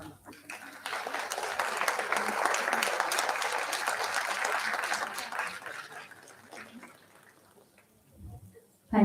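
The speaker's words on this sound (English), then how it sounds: "Big round of applause." An audience applauds steadily for a keynote speaker at an event, a sustained wash of clapping that fades out after several seconds, with a brief voice near the end.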